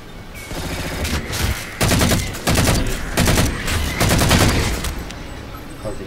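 Gunfire in the video game Halo 4 comes as loud, dense bursts of rapid automatic shots in several separate volleys with booming impacts between them. The firing is close and fills the whole stretch, with no voices.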